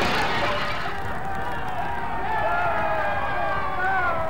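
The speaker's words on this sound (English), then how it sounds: "Even there, he was taunted by the crowd" An angry crowd taunting a senator in Boston during school desegregation makes a dense, continuous roar of shouting voices and babble, loud and sustained throughout.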